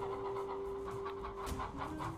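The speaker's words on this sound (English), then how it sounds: "I'll be attacked by chickens!" Chickens cluck and squawk in the video game Undead Horde, a dense run of close, overlapping fowl calls with no talk.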